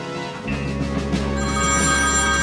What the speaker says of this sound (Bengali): নিচে ফোন বাজে, যাও তো ধরো